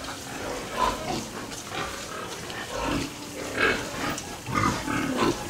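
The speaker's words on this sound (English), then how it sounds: "I don't know what the problem is with that little pig." A small pig that won't eat grunts repeatedly in a pen, short soft grunts in an irregular rhythm close by, with no talking.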